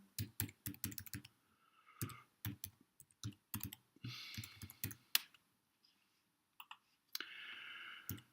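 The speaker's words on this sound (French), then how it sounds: "Nous allons taper le mot de passe et on s'identifie" Password typed on a computer keyboard: quick bursts of crisp, close key clicks in uneven clusters with short pauses, ending in a brief rushing sound.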